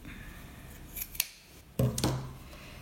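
Scissors snip through fabric while a zippered pouch is being sewn: a couple of faint early snips, then a louder, closer run of cutting strokes near the end, with no talking.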